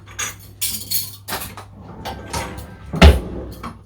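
Metal spoons clink and rattle against one another and against dishes in a home kitchen, with several short bursts and a sharper knock near the end.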